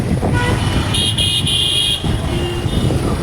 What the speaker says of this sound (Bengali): হর্ন দিয়া বাড়তে হয়